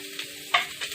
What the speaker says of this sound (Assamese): এইখিনি ভালদৰে ভাজি ল'ব লাগিব